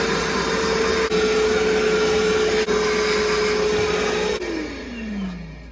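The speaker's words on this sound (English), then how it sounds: "I'm gonna suck all this stuff out of there." A vacuum cleaner sucks debris out of the airbox of a 2005 Suzuki GSXR1000 motorcycle, a steady loud whine and rush close up that drops in pitch as it winds down near the end.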